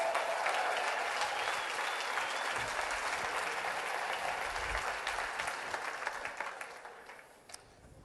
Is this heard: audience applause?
yes